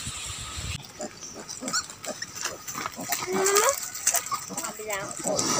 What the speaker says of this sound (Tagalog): Piglet!